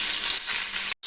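Mango pieces fry in a pan for pickle, giving a loud, steady, close sizzle with a brief cut near the end and no voices.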